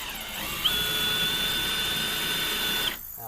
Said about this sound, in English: Drill down through it.